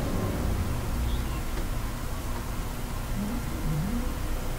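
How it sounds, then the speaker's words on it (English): A muscle car engine in the iRacing video game revs with a steady, broadband roar that holds throughout, rising in pitch briefly near the end, loud and close. "now you hear a muscle car's engine revving"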